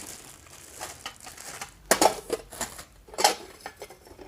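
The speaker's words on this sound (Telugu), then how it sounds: "నేను 5 గిన్నెలు తీసుకున్నానండి. అంటే 5 గిన్నెలు ఉన్న సెట్ వచ్చింది." A set of five kitchen bowls handled during an unboxing, giving off several sharp clinks and knocks, with two louder clusters of clattering amid softer rustling.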